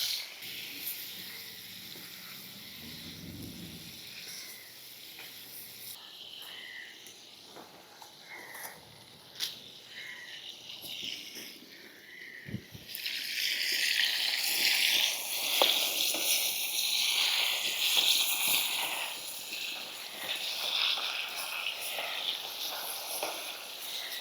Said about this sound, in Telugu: ఇప్పుడు దీంట్లోనే ఎండు చేప ముక్కలు కూడా వేసి వేయించుకుందాం అండి